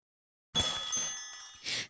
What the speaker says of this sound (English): The door chimes rang as someone, clad in protective gear, once again entered the store.